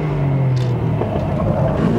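Cars, a GT-R among them, race side by side down a straight in a JDM battle, their engines holding a loud, sustained droning roar through the short moment.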